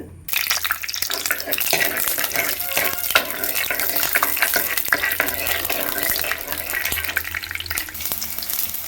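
Peanuts fry in hot coconut oil with a loud, continuous crackling sizzle that starts after a brief quiet moment and stays close and steady throughout.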